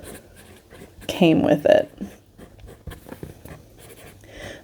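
A Diplomat fountain pen scratching across paper in a short burst of close strokes, heard beneath a person talking.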